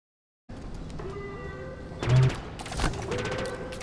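Enemy gunfire in a Halo Infinite campaign battle: muffled bursts of shots and impacts sound beneath game music and noise, with one heavy thump partway through and another burst of fire after it.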